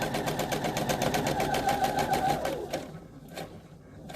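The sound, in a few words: sewing machine stitching flannel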